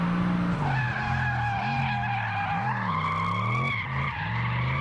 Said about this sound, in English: we managed to get some good V8 noises